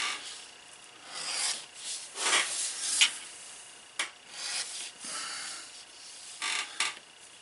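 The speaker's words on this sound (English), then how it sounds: "On the front side, it doesn't matter how far I bevel down." An edge beveler is drawn along a leather edge, making soft, quiet rasping strokes that repeat one after another with brief pauses, and no one speaks.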